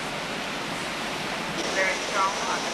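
Canoes run the tennis court rapids, with a continuous broadband rush of churning river water and a few faint whistling tones near the end.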